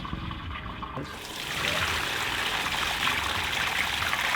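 Water from a downstairs toilet flush starts rushing into a drain manhole, a low trickle swelling after a second into a steady, fairly loud flowing stream that continues without any talk.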